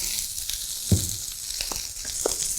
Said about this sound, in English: next step, you're going to add your onions. Get them going.